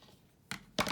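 Two short, crisp snips from small scissors trimming loose thread ends off a freshly zigzag-stitched fabric winter tag, close by and quiet, with a brief pause between cuts.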